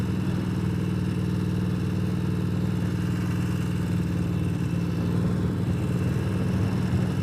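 Harley-Davidson Sportster motorcycle riding over a rough, potholed road, a constant engine drone heard from the rider's position with a faint clatter and rattle underneath and no talking.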